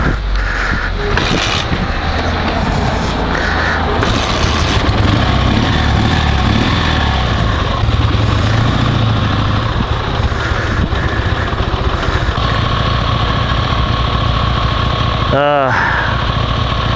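A motorcycle engine idles steadily throughout, a low droning hum with faint background noise and a brief chirping sweep near the end.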